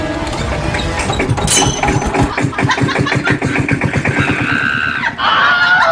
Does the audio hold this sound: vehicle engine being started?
yes